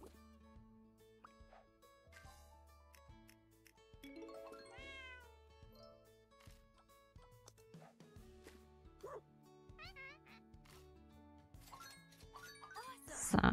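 Cartoon cat meows come from the video game Dr. Cares Pet Rescue 911, short tonal mews repeating amid game music and chimes, quiet under the game sounds.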